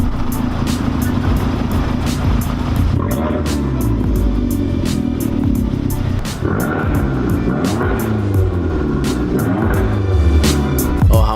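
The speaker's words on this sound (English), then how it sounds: "Oh, how much I love that sound." An Abarth 500 exhaust sounds off, a loud, continuous engine drone with shifting pitch as revs rise and fall, briefly dipping around the middle before building again, heard alone without talk.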